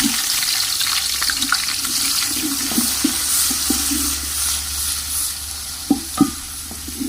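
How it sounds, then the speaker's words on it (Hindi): Onions frying in mustard oil in a pan, a steady soft sizzle with occasional stirring clicks and scrapes, close and alone without voices. "ये हमने सरसों का तेल डाला है और इसमें अब प्याज डाल देंगे।"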